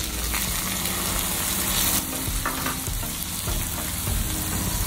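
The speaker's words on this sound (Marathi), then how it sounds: "हे आपल्याला सर्व मिश्रण व्यवस्थित परतवून घ्यायचं आहे" Chana dal and finely chopped onion with turmeric sautéing in a hot pan, a loud continuous sizzle with scraping stirs and a brief wetter hiss, no voices.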